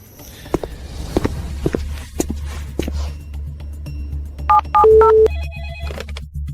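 A telephone rings in a few short electronic bursts with a tonal tune near the end, after several sharp footsteps or knocks, loud and close in a quiet room.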